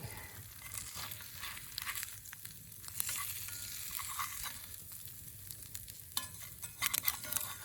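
Eggs sizzle and fry over a campfire on a Lord and Field bushcraft swinging grill outdoors, a steady close crackle with occasional sharper pops, no talking.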